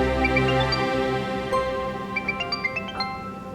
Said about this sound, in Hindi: तुम्हारा फोन आ रहा है,